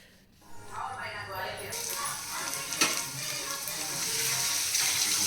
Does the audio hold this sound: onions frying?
yes